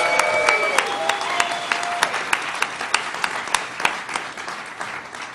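A studio crowd claps steadily for a few seconds, with a few sharp individual claps standing out near the microphone and a brief high tone at the start.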